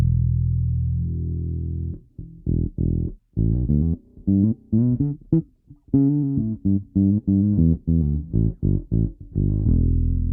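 Bass guitar played through a Wal/Alembic-style filter preamp, a sustained low note followed by a run of short plucked notes with a growling, mid-heavy tone.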